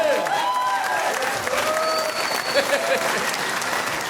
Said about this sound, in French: en remplacement de Chuck Thompson, qu'on peut applaudir.